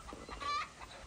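Chickens cluck softly in a barn for a moment, a faint, brief burst of clucking with a short higher note.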